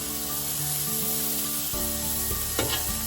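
Smash burgers and onions sizzle on a griddle, a loud, steady frying hiss up close, with a spatula scraping and knocking against the metal surface.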